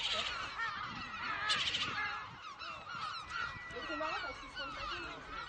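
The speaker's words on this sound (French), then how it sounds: "on a le fameux goéland brun avec ses pattes jaunes, voilà, avec un poussin" Lesser black-backed gulls call loudly and continuously at a breeding colony on an island in the Glénan archipelago, with harsh overlapping cries close by and a chick present.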